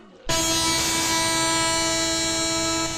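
A train roars loudly and steadily right up close, its horn blaring continuously after a sudden start, with no voices.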